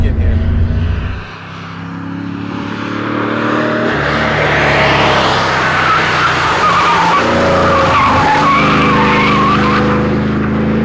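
A supercharged Porsche 928S at full throttle on a race track. The engine roars loud and close, dips briefly at a gear change into second, then climbs again in a rising, sustained pull with tyre noise.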